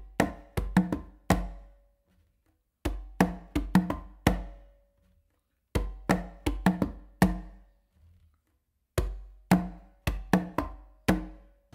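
Congas played in an exercise mixing deep bass tones and close slaps on the tumba, four repeated phrases of crisp hand strikes separated by short gaps, close and dry with no talking.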